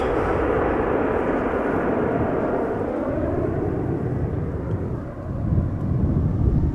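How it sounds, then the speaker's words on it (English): An Embraer E195-E2 airliner arriving at Amsterdam Schiphol makes a loud, rumbling jet roar that swells and sweeps, dips briefly, then surges again toward the end. "The second Embraer 195 of the day, the E2 Embraer 195 I should say."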